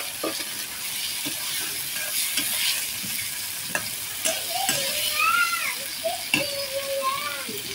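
Spice powder tempering (baghar) sizzling in hot oil in a home kitchen: a steady, close frying hiss runs throughout with scattered pops and spoon clatter, and brief squeaky tones rise above it.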